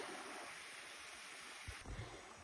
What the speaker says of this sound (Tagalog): Ayan ang ilog.